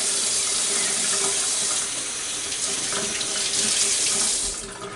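Tap water runs steadily into a kitchen sink as small potatoes are rinsed, a continuous close splashing hiss that holds for the whole stretch with no voices.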